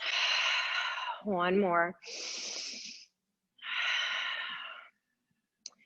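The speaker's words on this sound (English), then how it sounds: "Big breath in, big breath out." Deep, slow breathing in and out during a gentle yoga flow: three long, airy breaths drawn close to the microphone, with a brief spoken phrase between the first and second.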